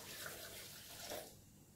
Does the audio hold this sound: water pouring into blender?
yes